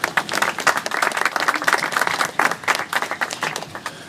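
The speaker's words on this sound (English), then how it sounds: "Please give a round of applause." An audience applauds a speaker at a knife bin launch in the West Midlands, with close, dense and lively clapping that carries on steadily throughout.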